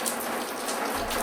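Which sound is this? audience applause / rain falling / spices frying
rain falling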